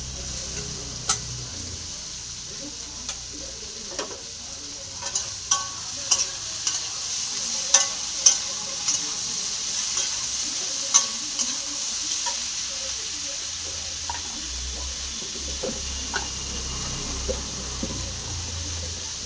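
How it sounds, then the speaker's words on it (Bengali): Chopped snake gourd and pointed gourd, added after a cumin tempering, fry in a pan with a steady sizzle under repeated sharp spatula taps and stirring scrapes. "চিচিঙ্গা ভাজা, পটল আর চিচিঙ্গা সব একসাথে"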